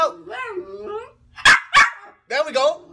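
Two quick, loud woof-like barks burst out between stretches of sung or chanted voice, most likely a human voice imitating dogs barking rather than real dogs.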